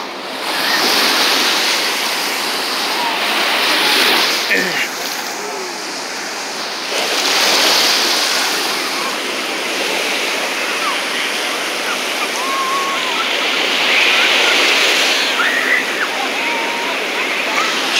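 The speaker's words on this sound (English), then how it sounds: "Shows the waves." Ocean waves break and wash up on a beach strewn with shells and seaweed, a broad steady surf rushing with swells rising and falling, plus some wind buffeting the microphone.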